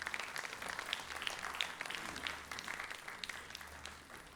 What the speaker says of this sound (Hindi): आपकी तालियों के बीच हम अभिनंदन भी करते हैं और धन्यवाद भी करते हैं माननीय वेंकैया नायडू जी का